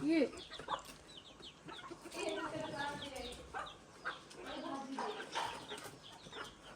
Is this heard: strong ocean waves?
no